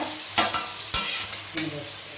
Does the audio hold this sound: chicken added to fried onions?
yes